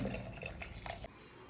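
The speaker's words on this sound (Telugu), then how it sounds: "నేను 2 glasses ఆఫ్ వాటర్ కూడా యాడ్ చేస్తున్నాను" Two glasses of water poured into a cooking pot of dal with drumsticks, turmeric and chilli powder: a short splashing, trickling pour that cuts off abruptly near the end, with no talk.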